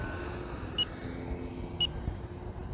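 Two short, high electronic beeps about a second apart from a six-minute flight timer for an E-flite Air Tractor 1.5m RC plane, heard outdoors over steady low wind rumble.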